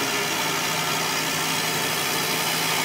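New Holland T7 210 tractor engine running with the PTO engaged while a slurry tanker builds pressure, a steady droning hum with broadband mechanical noise, continuous and even.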